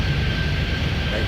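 An airplane engine drones steadily in the airport game Airport Madness 3D, a continuous mid-level hum with a faint whine, over a brief moment.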